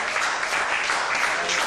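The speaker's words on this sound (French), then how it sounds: "Acclamons le nom du Seigneur" Congregational applause in a church service, a dense steady clatter of many hands filling the room throughout, fairly loud with a faint murmur of voices beneath.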